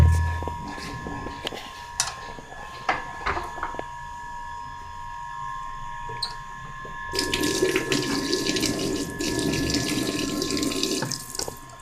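Tap water runs into a sink while a radio part is washed in soapy water, with clinks and handling sounds before the stream gets louder and steady, and someone talks briefly.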